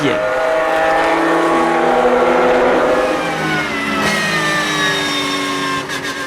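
Race cars at speed on the Dijon-Prenois circuit, engines screaming loudly and changing pitch as they pass, with a commentator talking over the racing.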